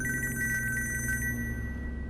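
A telephone rings for an incoming call with a rapid warbling electronic trill repeated in short bursts, fairly close, over a steady background hum, with no talking.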